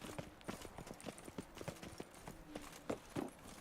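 Steady clip-clop of horse hooves trotting in the video game The Witcher 3: Wild Hunt, Blood and Wine expansion, a continuous rhythmic stream of moderately loud hoofbeats with a couple of heavier thuds near the end.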